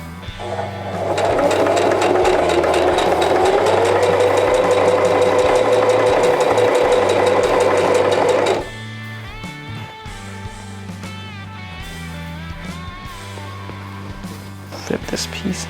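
A sewing machine stitches a Flynn Rider costume piece in one loud, rapid, continuous run lasting about seven seconds, then stops, leaving quieter handling sounds and a low background hum.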